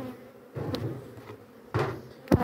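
Honeybees buzz around an opened beehive, a faint low hum broken by a few louder close passes and knocks on the hive box, with no talking.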